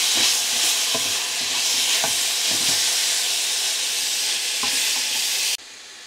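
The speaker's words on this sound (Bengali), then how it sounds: "লাউ শাক ভাজিটা অলমোস্ট ডান এটাকে আমি আরেকটু ভেজে নেব" Bottle gourd leaves stir-fry in a pan with a loud, continuous sizzle and hiss, broken by the regular taps and scrapes of a spatula, before the sound drops off sharply at the end.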